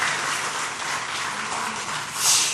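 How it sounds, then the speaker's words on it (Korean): Wedding guests at a church service applaud together, a dense, steady wash of many hands clapping that swells slightly toward the end, with no talking over it. "박수 한번 칩시다"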